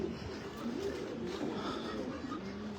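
Pigeons at a racing loft cooing, soft repeated low coos close by over a steady background murmur.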